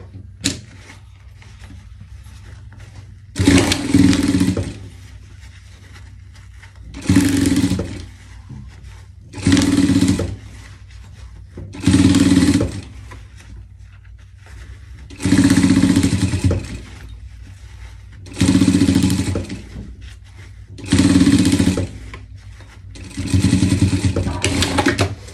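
Sewing machine stitching the seam of a dog chef pet costume, running in about seven short whirring bursts separated by pauses, close and fairly loud over a low steady hum.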